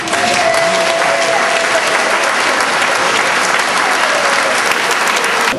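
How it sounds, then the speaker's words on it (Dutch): An award ceremony audience breaks into loud, full applause for a volunteer of the year prize, the dense clapping of a crowd holding steady close by for several seconds. "En dan kunt u met applaus haar, uw waardering voor haar activiteiten laten horen."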